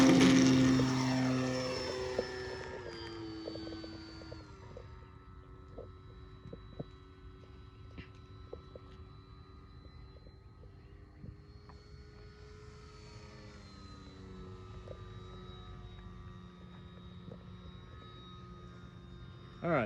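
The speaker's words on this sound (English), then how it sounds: "This is half flap takeoff." OMP Bighorn model airplane taking off with half flaps, its electric propeller buzzing loudly at first with steady harmonic tones, then fading as it climbs away into the distance and faintly returns.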